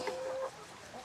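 Farm chickens clucking after a typhoon in Cebu, a faint brief cluck or two against quiet outdoor background.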